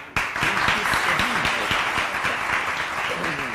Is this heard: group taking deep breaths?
no